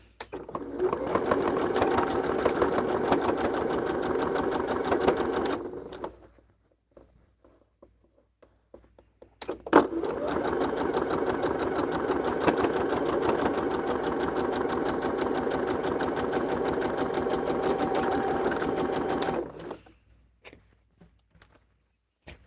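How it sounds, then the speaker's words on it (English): Sewing machine stitching a quarter inch seam on quilt fabric, running in two steady bursts of about six and ten seconds separated by a quiet pause with light handling sounds. "And sew your 1/4 inch seam."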